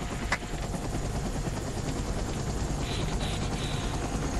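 A helicopter in the snowboarding game SSX thrums with a steady rotor drone throughout, loud and continuous, with a faint brief tone near the end and no voices.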